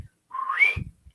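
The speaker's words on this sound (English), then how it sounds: "You're going to face the east, and you're going to whistle 3 times." A single human whistle, close and clear, sliding smoothly upward from a low to a high tone for about half a second, with faint soft sounds just before and after.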